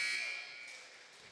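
A basketball game's end-of-half buzzer sounds in a college arena, a short harsh electronic tone fading quickly under crowd noise and commentary.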